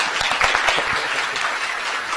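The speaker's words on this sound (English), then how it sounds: "give me a big round of applause now" An audience at an international school sustainability event for students and teachers claps in a dense, steady burst of applause that holds at a constant level for a couple of seconds, with no speech over it.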